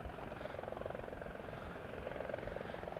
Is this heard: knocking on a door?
no